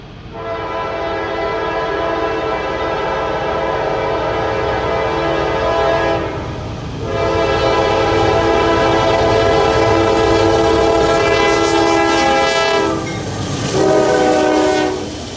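Freight train led by two rebuilt AC44C6M locomotives (ex Dash 9 D9-40C) rolls past close by, a loud steady rumble with repeated long horn blasts sounding over it.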